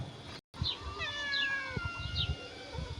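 A cat lets out long, tense, wavering yowls and a low growl, close by, with a brief dropout near the start.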